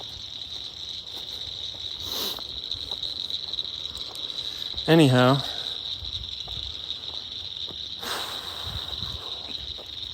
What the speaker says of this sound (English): I'm walking by like a pond with, I think they're like some frogs and maybe some insects.